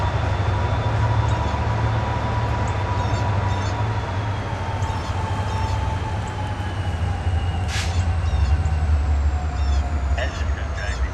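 A freight train with four locomotives stalled on a wet-rail hill, notching up and reversing, gives off a steady heavy diesel rumble with continuous rail and wheel noise and occasional high squeals, heard close and loud throughout.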